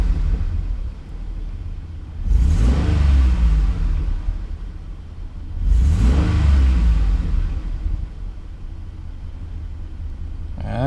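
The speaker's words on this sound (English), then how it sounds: "Let me give it some gas, because that's when I heard that knocking." A warmed-up Cadillac CTS, suspected of knocking, idles at a low rumble and is revved twice, each burst rising sharply to a loud roar before dropping back to idle, close by with no talking.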